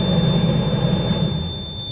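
An air conditioner blows steadily inside the cab of an old Mack truck, a loud, constant roar with a faint high whine on top, no voices over it.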